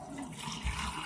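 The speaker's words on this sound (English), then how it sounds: "So I'm about to add some water to it." Hot water pouring into a smelly mixture for a homemade mini volcano, a short close splash and gurgle of liquid with no talking.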